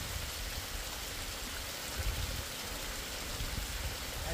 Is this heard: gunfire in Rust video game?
no